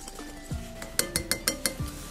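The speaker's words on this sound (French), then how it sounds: "Je vais ajouter 2 cuillères d'huile cette fois et on mélange encore." Vinaigrette of vinegar and oil being stirred in a bowl, with a spoon clinking against the sides in a quick run of five or six close, bright taps after a couple of softer knocks.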